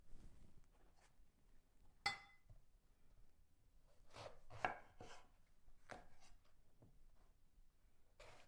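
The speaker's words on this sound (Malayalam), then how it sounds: "നമ്മളിങ്ങനെ നീളത്തിൽ അരിയുന്നത്." A knife cuts brinjal lengthwise into strips, giving quiet, sparse, close-up chopping knocks with a sharper clack now and then and hushed pauses between the cuts.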